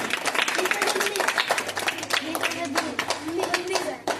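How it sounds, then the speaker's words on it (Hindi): A classroom of children at a gurukul claps together in a dense, steady burst of applause, with voices talking over the clapping throughout. "अब दोबारा ताली बजाओ एक बार फिर भाई के लिए"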